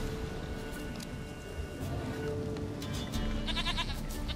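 Goat bleats in The Witcher 3 sound over a busy, noisy game soundscape with steady background rumble and brighter clicking effects toward the end.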